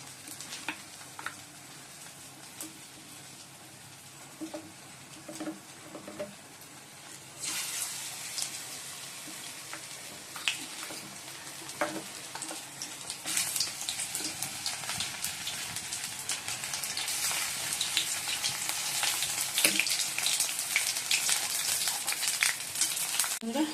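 Cauliflower pakoras coated in gram-flour batter fry in hot oil, a steady crackling sizzle that grows denser and louder over the second half, alone without talk.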